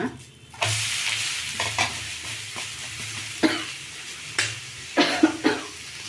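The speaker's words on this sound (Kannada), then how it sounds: "ಈಗ ನಾನು ಉಲ್ಟಾ ಮಾಡ್ತಾ ಇದ್ದೀನಿ ದೋಸೆನ" Onion dosa on a pan, flipped and frying with a soft steady sizzle, punctuated by a few scraping spatula clicks and light pan taps, with no speech.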